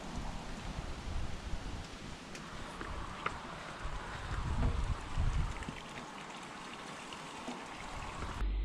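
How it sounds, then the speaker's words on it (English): Rain falls outdoors on a summer day in the UK, a steady broadband hiss with scattered small ticks and patters that swells and eases slightly over several seconds, with no voices. "and it's raining."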